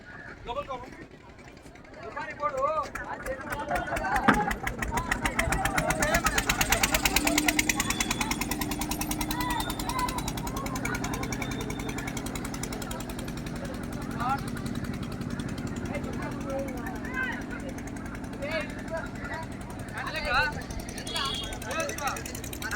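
A motor boat engine chugs on the Krishna River at Somasila, a steady rumble that swells for a few seconds and then holds. Voices of tourists talk over it.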